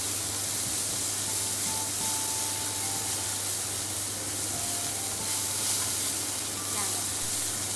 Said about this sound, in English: I put the onion into the pan and I fry it until they turn the yellow color